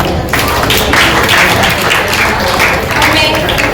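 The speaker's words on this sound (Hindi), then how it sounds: "तो आइए हम सभी प्रतिभागियों के लिए एक बार जोरदार ताली हो जाए।" An audience at a formal session bursts into loud, steady applause for the participants, a dense wash of clapping that carries through the whole moment.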